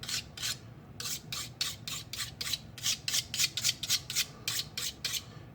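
A hand file rasps back and forth across the blade of a foam-cutting knife being sharpened, in a quick rhythmic series of about a dozen short, close strokes with no talking.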